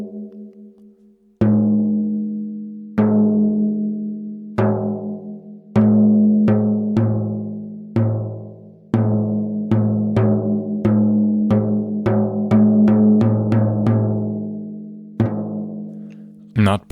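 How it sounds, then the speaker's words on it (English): A tom drum tuned with its fundamental near A at 110 Hz and a strong overtone a fifth above, struck about fifteen times alone at a moderate, uneven pace, each hit ringing with a resonant pitched decay. "that's the sound of the tom, with the fundamental on A and the better overtone a fifth above that"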